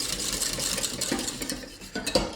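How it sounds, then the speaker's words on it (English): Whisk scraping and stirring through a white sauce (béchamel) in a pan to break up small lumps, a close, steady metallic clatter with brief louder knocks, no talking. "get a whisk and just give it a really good,"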